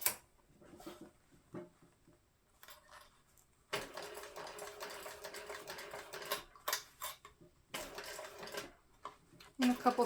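A sewing machine stitches vinyl and lining on a crossbody bag, running in short bursts of rapid mechanical chatter separated by pauses, close and moderately loud, with a person talking between runs.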